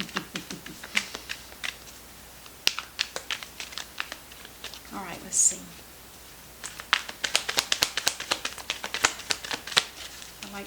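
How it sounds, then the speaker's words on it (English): Small tarot card deck being shuffled, a run of quick crisp card riffles and snaps, close and fairly quiet, with a brief voice speaking near the start. "I forget that I don't have to shuffle so hard."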